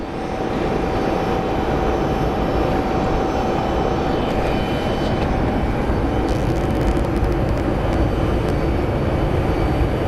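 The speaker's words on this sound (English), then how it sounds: "We do have one of these planes going through." A jet airliner passes at Phoenix Sky Harbor International Airport, its loud broadband engine roar holding steady and close throughout, with a faint sustained whine above it.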